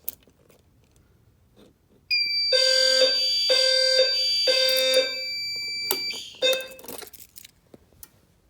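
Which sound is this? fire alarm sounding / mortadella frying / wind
fire alarm sounding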